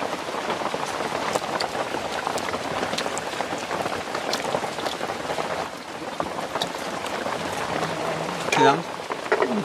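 Steady rain pours outdoors in the countryside, a dense, continuous patter close by, with a brief clatter near the end.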